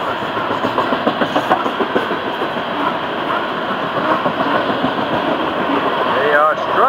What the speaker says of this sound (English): They are struggling to get this train moving.